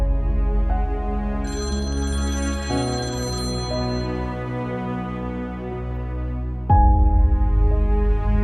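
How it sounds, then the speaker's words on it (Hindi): A telephone rings in a domestic drama scene, a steady electronic ringtone repeating over a low musical bed, close and clear with no voices. "प्लीज अबरार फोन तो उठाओ"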